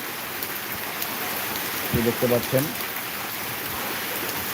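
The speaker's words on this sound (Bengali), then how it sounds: "বৃষ্টি কিন্তু কোনো থামছেই না বৃষ্টি চলছে অবিরত চলছে" Steady heavy rain hisses continuously, with a person speaking briefly partway through.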